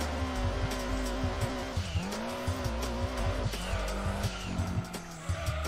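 Sustained tire squeal from a race car in Gran Turismo 2, wavering and sweeping in pitch over a steady engine drone as the car slides with understeer, loud and continuous throughout with no talking.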